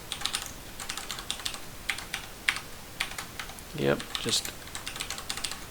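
Password being typed on a computer keyboard, with steady quick key clicks scattered across the clip and a brief spoken word in the middle.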